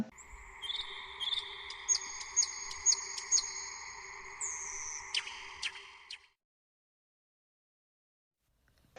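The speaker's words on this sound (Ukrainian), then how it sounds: "соловей" Nightingale song: a sustained trilling phrase with several sharp whistled notes and rapid warbles, faint and clear, ending abruptly into silence.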